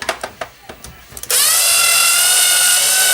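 Electric screwdriver working on a Super Famicom console: a few light clicks and taps, then a loud continuous high-pitched motor whir that runs steadily to the end.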